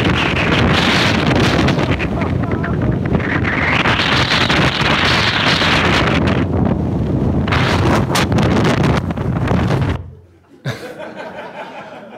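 Strong gusty wind buffets the microphone in Wanaka, New Zealand, a loud continuous roar for about ten seconds before it drops away abruptly near the end.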